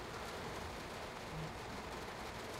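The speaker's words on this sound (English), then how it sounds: "It is raining. I can barely see." Steady rain falling during a train run in Train Sim World 4, at a Long Island Rail Road yard, heard as a continuous, fairly loud broadband hiss with no talk over it.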